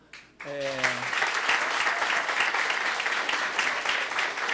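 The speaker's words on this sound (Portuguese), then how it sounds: "eu queria iniciar pedindo mais uma salva de palmas ao professor Molion." An audience at an academic round-table session applauds a professor with steady, full applause that follows a brief spoken phrase and carries on loudly to the end.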